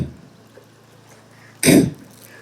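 A single sharp beatboxed snare hit, a breathy 'k'-like burst made by a voice imitating a snare drum, short and close after near silence.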